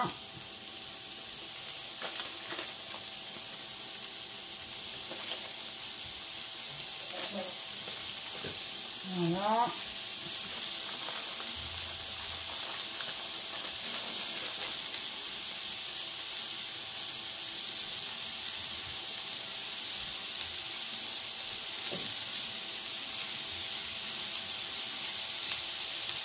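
Ground beef frying in a pan over medium heat, a steady broad hiss and sizzle that holds throughout, with a brief word spoken and a few faint clinks.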